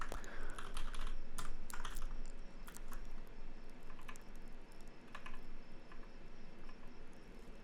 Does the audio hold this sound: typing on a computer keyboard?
yes